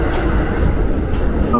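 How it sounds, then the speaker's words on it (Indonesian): A KRL commuter train pulls into Pasar Minggu Baru station, heard from on board as a loud, dense rumble of wheels and carriage noise with a brief squeal at the end. "Oke, ini dia, kita masuk ke stasiun Pasar Minggu Baru."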